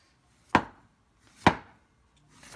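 A knife cuts zucchini into thin slices on a board, three crisp, separate chops about a second apart, close and clear with no talk.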